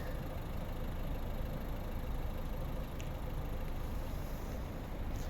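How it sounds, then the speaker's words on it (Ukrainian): A 2011 Volvo V50 R-design's 1.6 diesel, eight-valve, 115 hp engine idles steadily and evenly, a constant low rumble with no changes in pace, heard up close with nothing else around it. "автомобіль заведений, дуже рівно тихо працює"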